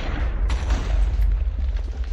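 A cannon fires in the Minecraft Create Big Cannons mod: a heavy, deep boom followed by a sustained low rumble, close and loud, with no speech.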